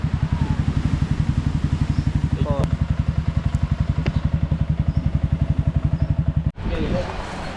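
A motorcycle engine idles close by with a steady, rapid chugging pulse, then briefly revs and drops to a rougher tone near the end; faint voices come through under the engine.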